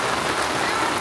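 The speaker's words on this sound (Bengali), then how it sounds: "এটা তো আর সেই বর্ষাকালের বৃষ্টি না, শীতকালের বৃষ্টি।" Steady November winter rain pours onto a surface close by, a dense, even patter that fills the whole moment with no voices or other sounds.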